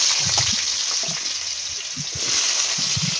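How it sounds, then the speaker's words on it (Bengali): Potatoes frying in hot oil in a pan for a vegetarian alu paneer dish: a steady, bright hiss of sizzling holds throughout, with low clunks and stirring knocks scattered beneath it. "এখন আলু ভেজে নেওয়া হবে।"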